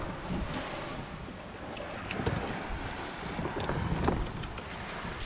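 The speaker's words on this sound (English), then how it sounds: "it's about a 20 to 30 knot wind day, and it's howling out there" Strong wind of 20 to 30 knots roars steadily past a cut-down Laser sailboat out on the water, a dense broadband rush with gusty swells and water noise.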